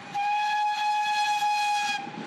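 A steam locomotive hauling a special train of historic 1920s carriages gives a long, steady whistle blast lasting about two seconds, loud and clear against quiet surroundings.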